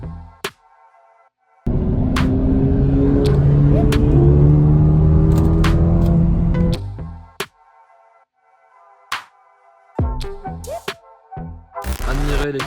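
A car engine, one of a Mercedes A35 AMG, Alfa Romeo 4C and Abarth on a motorway, drones loudly and steadily with a rising harmonic hum for several seconds, then cuts to quieter interior rumbles and short bursts of noise.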